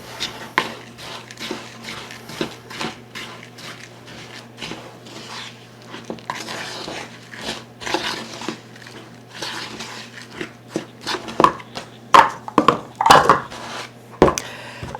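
Oatmeal peanut butter cookie ingredients stirred in a bowl, with repeated scraping and clinking knocks in an uneven rhythm, growing louder toward the end.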